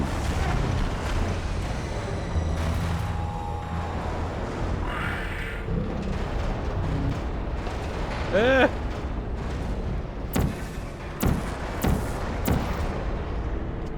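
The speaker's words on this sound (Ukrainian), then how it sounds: "Шумить вітер." Wind blows steadily in a broad, rushing roar, with a few sharper knocks and bumps breaking through near the end.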